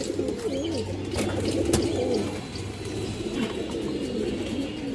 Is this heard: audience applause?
no